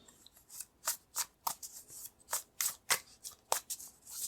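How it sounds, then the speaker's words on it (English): Tarot cards are shuffled and pulled with a run of soft, crisp flicks and slaps at an uneven rhythm, close and fairly quiet, with no talk. "I'm going to pull some cards to go with those cards"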